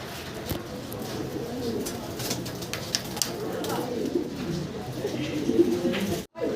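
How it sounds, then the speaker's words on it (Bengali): A pair of yellow Andrope fancy pigeons coo repeatedly in soft, low, rolling calls, close by, with faint background noise. "খুব চমৎকার এক পেয়ার কবুতর দেখতে পারতেছি আমরা"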